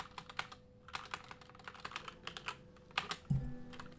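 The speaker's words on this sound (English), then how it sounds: "I'm really bad at touch typing when the microphone is in the way." Rapid, uneven keystrokes clatter on a computer keyboard during game-development coding, close and quiet, with bursts of clicks and short pauses and a heavier thump near the end.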